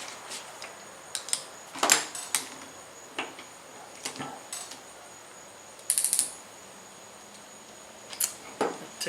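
Clicking of a ratchet and socket loosening the bolts on an old oil pump from a 383 stroker engine, short irregular bursts of ratcheting with brief pauses, close up and fairly quiet, no talking.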